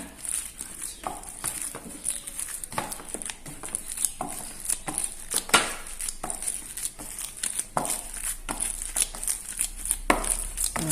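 Mashed ripe plantain is worked together with breadcrumbs for plantain stuffed with egg, giving a run of soft, irregular squishing and tapping strokes, close and fairly quiet, with no voice over them.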